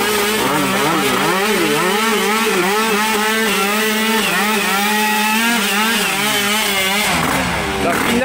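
Motorcycles rev hard during a free practice session at a race event, loud close engines rising and falling in pitch through repeated throttle blips and shifts, with faint voices beneath.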